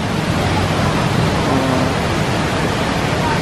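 Tamaraw Falls in Puerto Galera gives a loud, unbroken roar of falling water, heard close by as a dense steady rush that fills the whole moment.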